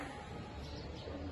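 Pigeons kept by a fancier in Lahore coo softly in a short, faint stretch against a continuous noisy background.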